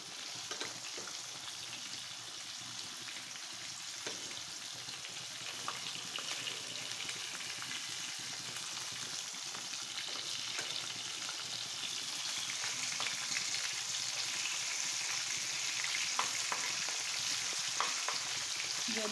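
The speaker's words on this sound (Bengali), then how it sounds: "আমি এখন সুন্দর করে মাছগুলো ভেজে নেব।" Small kochu mach fish fry in a pan with a continuous soft hiss that slowly swells louder, sprinkled with faint pops and crackles and no talking.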